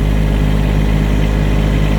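Truck engine idling on a farm during snowmelt, a loud, steady, close rumble with an even low throb and no voices.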